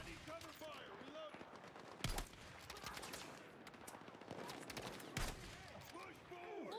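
Rapid automatic machine gun fire in the Battlefield 6 campaign, a dense steady rattle of bursts throughout with two louder heavy blasts, mixed under shouted battlefield voices.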